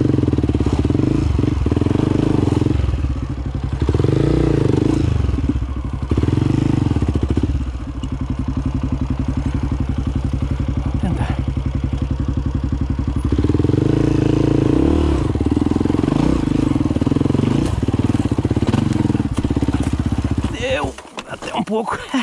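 A motorcycle engine revs and strains steadily up close on a slick, muddy trail, rising and falling with clattering and scraping, ending in a sudden jolt.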